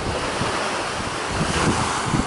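Sea waves wash steadily onto Haad Rin beach on Koh Phangan, a continuous broadband surf roar mixed with wind buffeting the microphone, close and loud.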